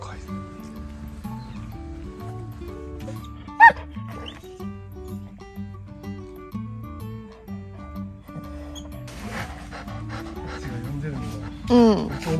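A small dog yips and pants close by amid background music, with people talking over it and a sharp bark near the end.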